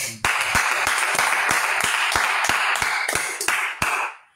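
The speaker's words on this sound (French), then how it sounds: "On acclame ça, frère." An audience claps together in a short burst of about a dozen sharp, evenly spaced claps that fade out at the end.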